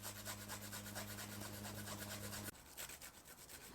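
A thumb-sized piece of ginger is grated, giving quick, rhythmic scraping strokes, close but quiet, over a low steady hum that cuts out partway through.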